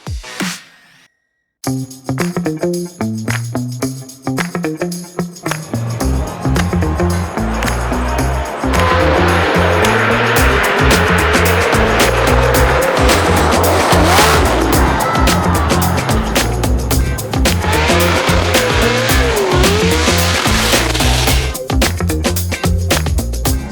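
A Formula Drift car, an S-chassis with a supercharged LS engine, competing in the 2023 championship: a loud, sustained engine roar with throttle held wide open and a rising, squealing tire howl, close and unbroken after a brief gap.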